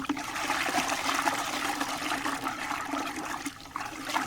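Epsom salt being stirred into a container of water for tomato fertilizer, a steady close swirling and sloshing of liquid that runs unbroken for a few seconds with no talking.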